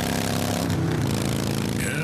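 A motorcycle engine runs steadily and loud with a droning, throbbing hum throughout, with no break and no voices.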